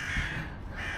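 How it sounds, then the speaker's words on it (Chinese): A crow gives a harsh, drawn-out caw, loud and close, heard alone. "乌鸦"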